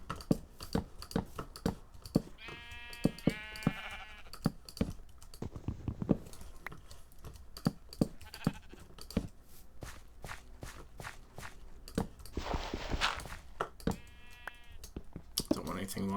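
Sheep bleating in the Minecraft video game, a few short bleats scattered among soft footsteps and keyboard clicks, fairly quiet, with a voice talking at times.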